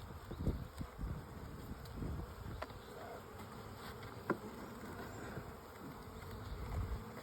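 Honey bees buzz around an open, established hive during an inspection, a soft steady drone with passing close fly-bys and a few faint rustles and knocks, quiet and outdoors, with no talking.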